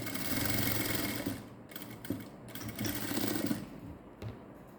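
A sewing machine stitches a princess-cut V-neck blouse with a bow design, running in short close bursts of buzzing whir separated by brief pauses.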